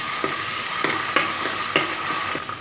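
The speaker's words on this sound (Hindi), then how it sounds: "अदरक लहसुन पेस्ट, इसको भी हम 1 मिनट के लिए फ्राई कर लेंगे" Ginger garlic paste frying in a pan for a tomato and okra curry, a steady close sizzle punctuated by rhythmic scrapes of stirring, with no talking.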